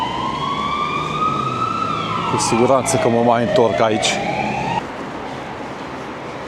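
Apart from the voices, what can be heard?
ambulance siren on a Barcelona street at night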